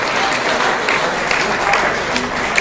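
An audience gives loud, continuous applause to honour journalists at a Press Day function held at an educational institution in Mudalagi, with the clapping steady and close throughout.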